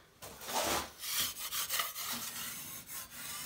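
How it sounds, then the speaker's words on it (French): A trowel scrapes plaster off a metal corner in several rough, rasping strokes, close and steady with short gaps between passes, without speech. "juste gratter avec une truelle les petites impuretés"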